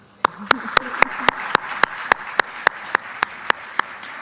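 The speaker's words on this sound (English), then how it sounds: "I believe they have earned some good applause." At a technology conference opening ceremony, sharp, evenly spaced claps ring out in a steady rhythm over a soft crowd murmur, sounding like a rhythmic audience clap.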